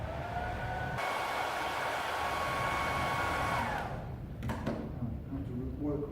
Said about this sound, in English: Using the hottest setting that I can on the hairdryer.